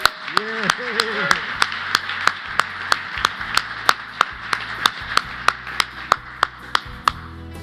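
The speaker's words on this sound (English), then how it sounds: "And let's give him a round of applause." Rhythmic clapping breaks out for an award winner at a departmental awards ceremony, steady sharp claps from an audience, with a brief voice and cheer at the start.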